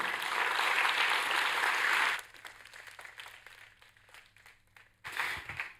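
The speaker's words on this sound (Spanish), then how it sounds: "Démosle un aplauso al Señor por eso." A church congregation applauds loudly for about two seconds during a sermon, then the room falls to a faint rustle before a brief second burst of clapping.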